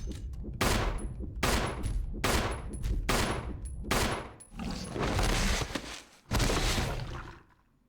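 Rapid bursts of gunfire from the Resident Evil 2 remake ring out in close, loud volleys, about six strings of shots in quick succession with short gaps between them, followed by a final longer burst that tails off.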